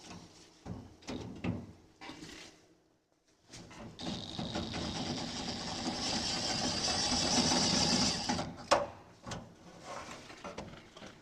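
Impact wrench working on the front end of a 1967 Mercury Cougar: a loud, continuous rattling buzz lasting about four seconds, with scattered clanks of tools and parts before and after it.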